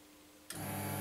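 A Festool SYS VAC dust extractor switches on abruptly, jumping from near silence into a loud, steady broadband whir that continues to the end.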